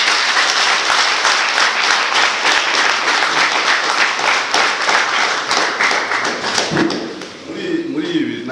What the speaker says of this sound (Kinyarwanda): uyu musaza tumuha amashyi